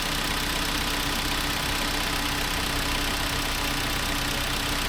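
A 2.4L Hyundai Sonata engine idles in neutral with an automatic transmission, a steady, even hum with broad noise that stays constant and moderately quiet throughout, with no voices.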